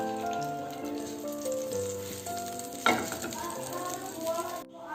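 Cumin seeds hitting hot oil in a pan while a green peas masala is cooked, producing a steady close sizzle with a sharper burst of crackling midway, under a faint background tone.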